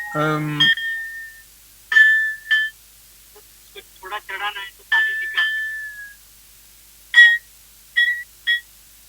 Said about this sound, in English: so why do we say Jalatarang? You can hear the tarang of Jal as it's vibrating too.